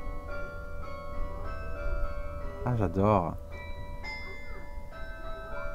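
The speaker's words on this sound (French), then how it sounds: "le son du carillon qui tourne autour de cette église." Carillon bells ring out at the Notre-Dame de La Drêche church, a sustained tonal chime with a rich cluster of ringing notes mid-clip over a steady hum, while a person speaks briefly.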